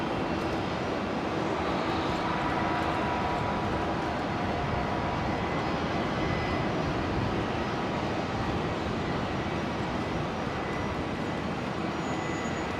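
A Qantas Boeing 737-800 jet airliner arrives at Brisbane International Airport from Christchurch, its engine noise a continuous loud rumbling roar held evenly across the whole stretch, with no voices over it.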